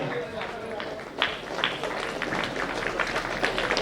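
An audience applauds at a devotional film song launch for Sri Jagannatha Dasaru, steady clapping running throughout, mixed with crowd noise and voices.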